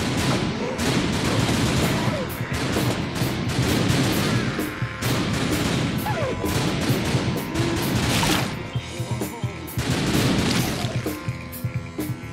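Gunfire in The Typing of the Dead: Overkill, repeated loud shot bursts and crashes in a zombie shooter, steady and dense, with some talk underneath.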